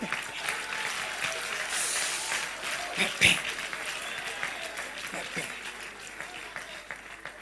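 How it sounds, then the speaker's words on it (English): Rally crowd clapping steadily at a Nigerian political gathering for Peter Obi, a dense outdoor wash of many hands continuing for several seconds, with voices and shouts mixed in. "Don't stop clapping."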